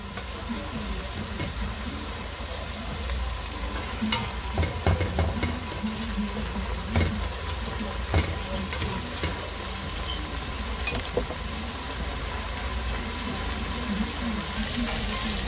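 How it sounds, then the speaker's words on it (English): Saltfish fries in a pot for a Guyanese cook-up rice, a steady close sizzle and hiss with occasional stirring clatter and scrapes throughout. "I'm gonna fry it for a little while. Fry it up for a minute or so."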